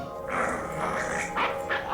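A cartoon dog from the anime Cowboy Bebop yips and whimpers in a few short bursts, set against a soundtrack bed with faint voices in the background.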